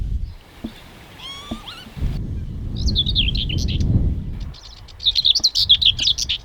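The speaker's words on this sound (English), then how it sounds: "What a stunning bird." Bright, rapid bird chirps and trilling calls in a British desert-like dune habitat, several bursts near and clear, with rustling and handling noise between them.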